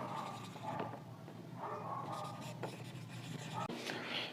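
Chalk or pen writing points on a board during a class lesson on democratic government, a series of soft scratchy strokes with short pauses between them, fairly close and moderately loud, with no talking.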